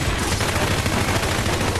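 Rapid gunfire rattles in the video game Neverdead, a dense continuous burst of loud shots with no pauses and no talking.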